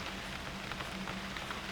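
Rain falls in the survival game UnReal World, a steady dense patter on surfaces with no voices, even and continuous for the short stretch.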